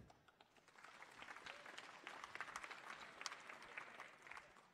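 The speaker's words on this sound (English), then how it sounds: "Give him an applause." Audience applause at a science and education presentation, a dense patter of many hands that swells and holds steady for several seconds, moderately distant and without speech over it.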